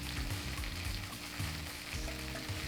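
JUST Egg vegan egg frying in a pan over low heat, a steady close sizzle with soft crackle and low pops throughout, no talking.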